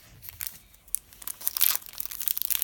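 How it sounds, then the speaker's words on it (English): Foil Match Attax 2017/18 football trading card packets are torn open close up, with bursts of crinkling and ripping that grow louder toward the end. "So first we will open the 5 packets"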